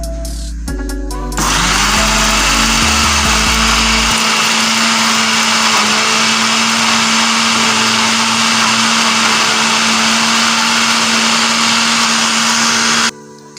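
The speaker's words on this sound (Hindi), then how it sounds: "अब हम इसे ब्लेंड कर लेंगे।" An electric blender whirs loudly and steadily for about nine seconds, blending bananas, sugar and milk for a smoothie. A few clunks and a brief start-up come first, and the motor cuts off abruptly near the end.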